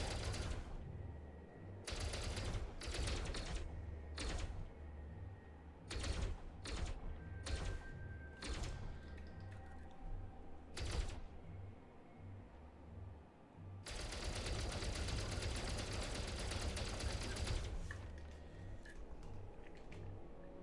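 A ship's weapons fire to shoot a panel off a structure in Elite Dangerous. Short bursts of rapid mechanical rattling come in repeated clusters, then one longer sustained burst, fairly faint against a low hum.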